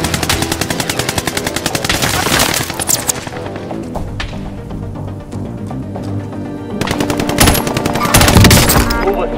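Video game gunfire in rapid automatic bursts, loud and close, forming a dense, continuous rattle across the whole stretch with a short lull in the middle before heavy firing resumes, and no talking.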